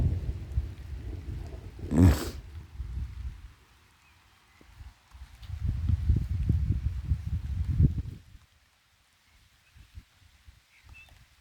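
Thunder rumbles low outdoors over a garden just before rain, in two long rolling swells with a sharp burst early on, then fades to quiet; no one speaks.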